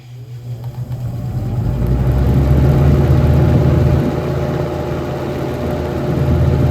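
A vintage box fan running on high speed gives off a steady, loud whirring drone with a low hum that swells during the first few seconds and then holds constant, with no voices over it.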